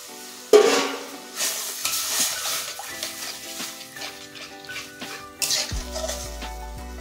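Chopped cucumber and green chilli tip into a hot frying pan with onion, setting off an abrupt sizzle and stirring clatter that settles into steady frying, with a second burst of sizzling near the end.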